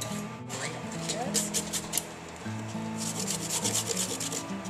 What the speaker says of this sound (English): And then I'm going to use the grater too.